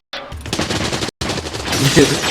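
Rapid bursts of gunfire from a Terminator 2 film scene, fired to shatter glass, come as a loud, dense fusillade with a brief gap partway through and voices mixed in.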